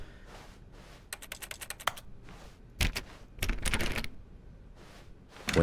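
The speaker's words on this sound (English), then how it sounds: "I'm not actually clicking anything. I'm just clicking my mouse." Mouse buttons click in irregular bursts during The Stanley Parable, sharp close clicks that come in rapid clusters separated by short quiet gaps, with no voice over them.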